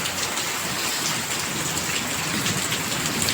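Heavy unseasonal rain pours down outdoors as a dense, steady hiss of drops striking surfaces. It is loud and unbroken for the whole stretch, with no voices.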